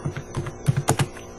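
Code being typed on a computer keyboard, a quick run of distinct key clacks in small irregular bursts, close and clear with no voices.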